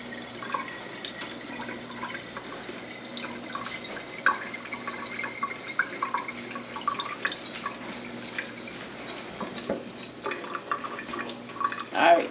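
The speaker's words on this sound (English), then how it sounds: "Fill the jar basically with water." Tap water runs into a jar of lentil sprouts covered with cheesecloth, a steady close trickle with irregular splashes and drips throughout.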